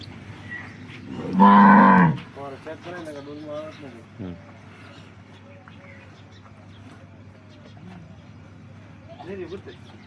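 A local Banaskantha cow gives one loud, close, drawn-out moo near the start. Quieter talk and soft animal noises follow in a barn-like setting.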